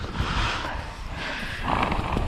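A horse's hooves clip-clop in a short run of steady, fairly close footfalls with some background rustle, and no one speaks.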